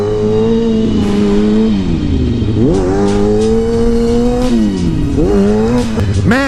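A motorcycle engine revs repeatedly as riding gets going again, with rising and falling pitch sweeps from gear changes and throttle, loud and close throughout with no talk.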